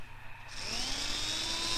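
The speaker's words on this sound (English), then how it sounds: "he's drilling through the lock with his umbrella" An umbrella fitted with a drill bores through a lock in a Space Precinct TV episode, a steady high mechanical whine that starts abruptly after a short pause and holds on, rising slightly in pitch, with no talk over it.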